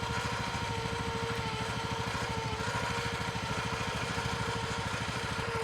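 An ATV engine runs nearby, giving a steady, rapid low putter at constant speed that holds without a break throughout.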